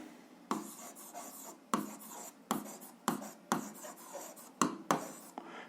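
Chalk or a marker writes on a board in a series of short scratching strokes, about eight distinct bursts in quick uneven rhythm, faint and close with no talk over them.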